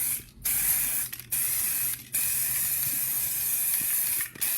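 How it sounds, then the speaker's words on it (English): Aerosol spray primer hissing onto cardboard in four steady bursts of bright, close spraying, separated by brief pauses, with no talk. "it's not a problem spraying it over the masking tape"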